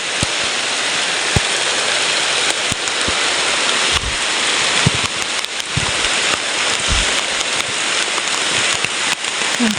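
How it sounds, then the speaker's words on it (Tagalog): Steady rain pours down throughout, a dense continuous hiss with scattered louder drops and thumps close by, no talking heard. "Ulan na naman."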